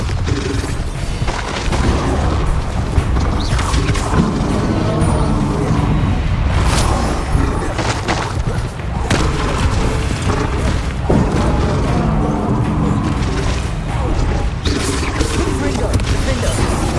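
Explosive spell blasts such as Bombarda in the wizarding action game Hogwarts Legacy, a dense, loud, continuous barrage of booms and crashes from a magical battle, with spoken voices layered over the din.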